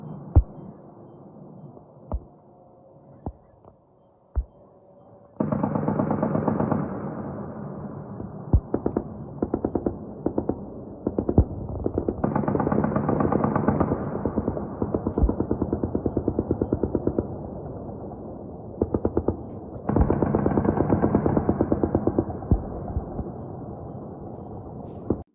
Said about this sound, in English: It's going to be anti-aircraft gunfire from the Ukrainian side trying to shoot